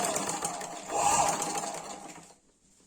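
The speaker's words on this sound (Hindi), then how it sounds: "तो ये मैंने फोल्ड कर लिया और अब मैं स्टिच लगा रही हूँ।" A sewing machine stitches a folded hem on palazzo pants, a steady close whir that swells briefly mid-run, then stops, leaving near silence.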